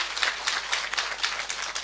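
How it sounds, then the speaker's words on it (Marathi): An audience at a political speech in Maharashtra claps for Fatima Sheikh, a brisk, fairly faint burst of many hands in an uneven rhythm lasting a couple of seconds, with no voices. "अरे वाजवा ना टाळ्या तिच्यासाठी."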